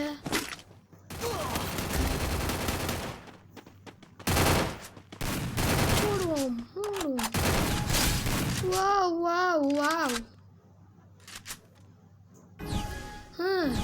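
Bursts of rapid automatic gunfire from the mobile battle game Free Fire sound in loud clustered volleys separated by brief pauses, alongside gliding electronic game effects.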